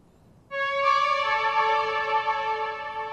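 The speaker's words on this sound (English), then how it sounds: "I've also added an eighth note delay onto it." A bright, airy synth lead with heavy reverb and an eighth-note delay, from a liquid drum and bass remix, enters abruptly and sustains as layered tones, with echoes trailing steadily for about three seconds alone.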